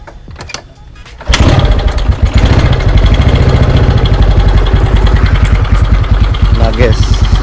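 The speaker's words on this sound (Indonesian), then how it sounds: "jadi ini bagian mesinnya buat motor si Dikri" A motorcycle engine starts up and runs steadily, loud and close, with a rough mid-range drone that continues for several seconds after a short quieter lead-in.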